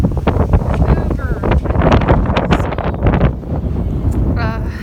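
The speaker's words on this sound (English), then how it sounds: "Really super windy today." Strong gusts buffet an outdoor microphone on a windy day at a goat farm, a loud continuous low rumble with bursts, while a person talks over it.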